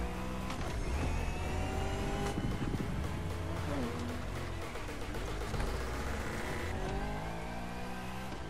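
A car engine in a racing game is held at full throttle, a loud sustained whine that climbs and drops through gear shifts over several seconds, with a little talk underneath.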